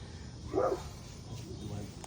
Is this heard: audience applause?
no